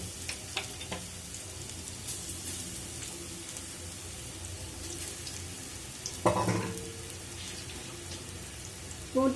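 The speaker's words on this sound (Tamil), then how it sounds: "இப்போ நம்ம இந்த கடலை பருப்பை இதில் போட்டுக்கலாம்." Chana dal (kadalai paruppu) roasting in a pan for laddu, a steady soft sizzle with faint clicks and stirring scrapes, plus a couple of louder clatters near the end.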